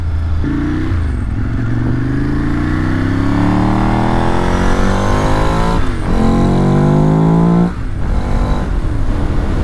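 A 2006 Ducati Monster S4RS engine revs hard and loud close by while the bike accelerates through rising gears, with brief dips at each shift, and no talking over it.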